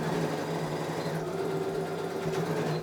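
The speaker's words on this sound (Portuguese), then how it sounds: "Vou para a máquina novamente e costuro várias vezes, ó. Vou, retrocesso e volto, ó." A domestic sewing machine stitches forward and reverse over elastic, a steady fast mechanical whir that runs unbroken and close by, with no talking.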